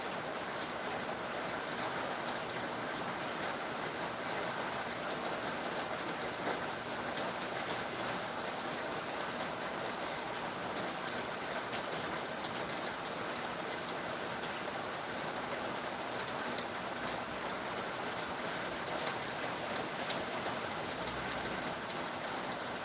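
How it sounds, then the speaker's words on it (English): Steady rain falling outdoors, a constant broadband patter with no distinct drops standing out, moderately loud and unbroken for the whole stretch. "over the live stream they can hear the rain as well"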